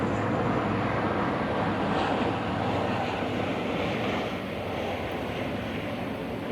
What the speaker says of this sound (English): Damn planes.